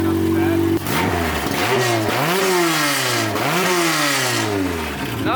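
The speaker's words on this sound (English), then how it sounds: "give it a little rev" A Honda K24-swapped Civic hatchback engine idles, then revs hard several times in quick succession, each climb rising sharply and falling back, loud and close.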